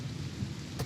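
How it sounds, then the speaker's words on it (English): Steady rain with a low rumble of thunder in the video game Total War Warhammer, a soft continuous wash that stays faint and even throughout, with no talking. "It rains, yes."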